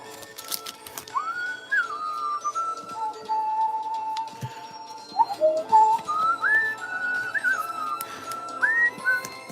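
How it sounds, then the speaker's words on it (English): A person whistles a tune live during a Pokemon card stream, clear sustained pitched notes with slides and pauses across several phrases, close and moderately loud over faint background clicks. "It's hard to whistle that one."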